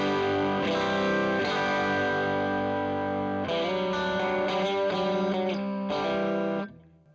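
Electric guitar played through an overdrive pedal with gain, tone and clean knobs near one o'clock, giving a loud, driven tone with sustained chords and several sharp re-attacks before the sound cuts off near the end.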